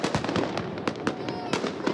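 New Year's fireworks over Sofia, a dense run of sharp crackling bursts and pops at mid distance, closely spaced and irregular, with faint background murmur.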